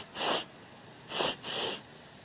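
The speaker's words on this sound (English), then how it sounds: "Now let's take a little sniff." Someone sniffs a flower three times at close range, each a short, breathy intake of air, the last one slightly longer, with quiet pauses between and no talking.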